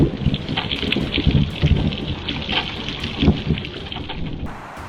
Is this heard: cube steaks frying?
no